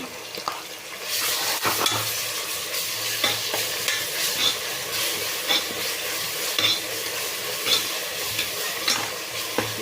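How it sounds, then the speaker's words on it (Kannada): A ground paste of ginger, garlic and green chilli fries in a pan for wedding-style pulao, a loud continuous sizzle close up, broken by frequent scraping stirs and light metallic clinks of a spoon against the pan. "ಈಗ ಶುಂಠಿ ಬೆಳ್ಳುಳ್ಳಿ ಮತ್ತು ಹಸಿಮೆಣಸಿನ್ಕಾಯಿ ರುಬ್ಬಿಟ್ಕೊಂಡಿದ್ದೆ ಆ ಪೇಸ್ಟ್ ಹಾಕ್ಕೊಳ್ತಾ ಇದ್ದೀನಿ"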